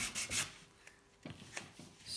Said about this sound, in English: Sanding is much harder to get any material